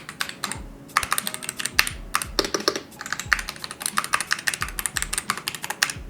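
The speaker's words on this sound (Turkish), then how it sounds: "Manyetik switch bir klavye olmasına rağmen iyi bir mekanik switch gibi sese de sahip olduğunu düşünüyorum ben" Steady, fast typing on an Aula Win 60 HE Max magnetic-switch keyboard with crisp, clacky keystrokes and a deeper thock on the spacebar, close up and continuous, no voices.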